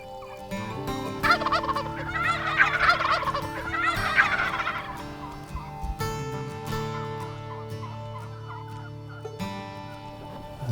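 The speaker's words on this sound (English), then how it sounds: "There's turkeys everywhere. Big old strutter right here." Several wild turkeys gobble repeatedly in loud bursts, including a strutting gobbler close by and others farther off, with clucks and background bird calls in between.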